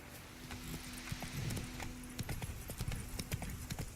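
Roach, the horse in The Witcher 3 video game, trots along with steady hoof clip-clops over a murmur of background ambience, close and moderately loud.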